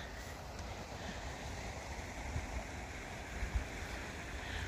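Steady broadband rush of a long river flowing below a morning walking path, a continuous wash of water heard from some distance with faint wind and no voices.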